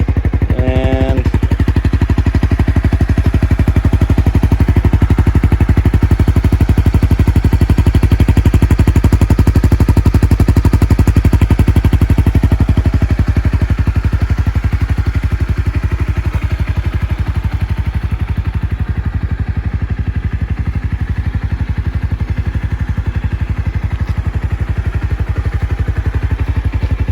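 A Honda CBR300R motorcycle fitted with a Yoshimura R77 exhaust idles steadily and loudly up close, a continuous low, throaty drone with a rapid pulsing beat throughout and no talking.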